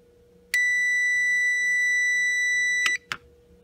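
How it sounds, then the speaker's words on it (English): An airflow monitor alarm sounds a single steady electronic tone loudly for over two seconds, cuts off, then a brief short blip follows. "the LEDs will flash red and alarm will sound"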